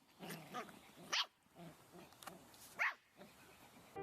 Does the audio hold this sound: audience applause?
no